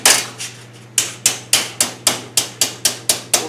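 A hammer taps sheet metal on a GMC V12 rat rod door repair, straightening a brake-bent angle with light, gentle blows: a few scattered taps, then a steady run of about ten sharp, evenly spaced strikes, close and clear.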